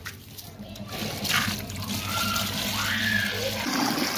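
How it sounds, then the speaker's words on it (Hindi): Water splashes and trickles while a Suzuki Bolan car is washed, a moderate, uneven wash of liquid noise with voices faintly in the background. "पानी जी आ गया"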